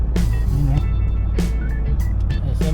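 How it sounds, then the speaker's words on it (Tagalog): Road traffic on a street near SM Santa Mesa in Manila before rain, with cars and trucks rumbling past in a steady low drone and several passing whooshes, heard close to the roadside. "Mabilis pa rin ang flow ng traffic."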